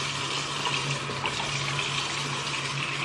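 Steady rush of a tap running while someone rinses their face at a sink, close and continuous with no pauses or talk.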